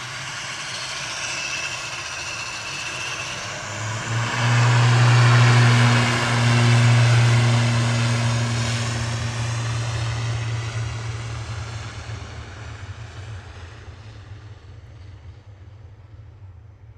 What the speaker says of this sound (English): landed in parallel from Paris Charles de Gaulle is Air France Flight 1668